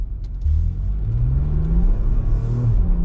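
Porsche Macan S engine pulling out of a junction, a close, deep rumble that rises in pitch as it accelerates, dips at a gear change and climbs again.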